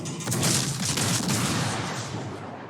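High-explosive shell salvos fired from a fast warship in a naval combat game, a loud rolling volley of booming shots blending into a sustained rumble, with no talk.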